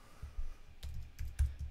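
Quiet typing on a computer keyboard, with a handful of soft, irregular key clicks and taps spaced over under two seconds in a still room.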